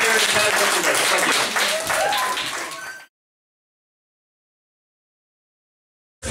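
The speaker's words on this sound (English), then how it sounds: "give up another round of applause for the acts" Comedy club audience applauding at the end of a set, dense clapping loud and close for about three seconds before cutting to silence.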